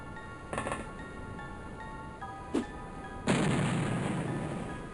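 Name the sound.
grenade explosion in OpenXcom Terror From the Deep video game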